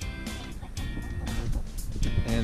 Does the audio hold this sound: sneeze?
no